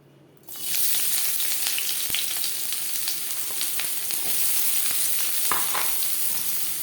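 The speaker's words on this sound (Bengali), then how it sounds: "ভেজ রোল তৈরি করার জন্য সবার প্রথমে আমি সবজি ভেজে নেব কড়াইতে দিয়ে দিয়েছি দু চামচ রিফাইন্ড অয়েল" Vegetables hit two spoons of refined oil in a kadai (wok) for a veg roll and set off a loud, steady close-up sizzle that starts suddenly and holds throughout, with faint crackles and a stir. No one speaks.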